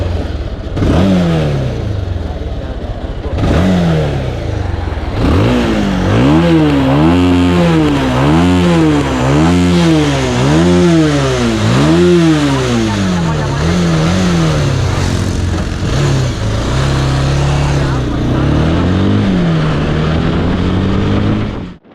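A 220cc motorcycle engine runs loud and close for the whole stretch, rising and falling in repeated revving swells with a throaty exhaust note.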